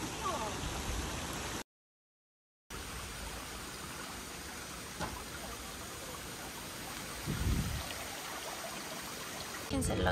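Steady rain falls outside at a resort villa in Phu Quoc, Vietnam, a continuous broadband hiss with a few louder gusts, briefly cut out near the start; a voice is faintly present.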